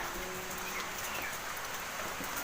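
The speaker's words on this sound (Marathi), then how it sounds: "हे बघा एकाएकी पाऊस पण चालू झालेला आहे" Light rain patters steadily, a soft even hiss with scattered drops, no voices.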